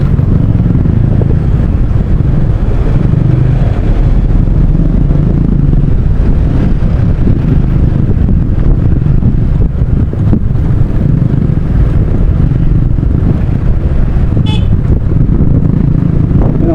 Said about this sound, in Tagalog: haba ng traffic guys oh.